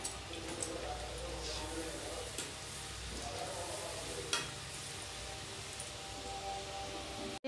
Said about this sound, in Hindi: थोड़ा थोड़ा करके हम इसको तल लेंगे। अब इसको गोल्डन होते तक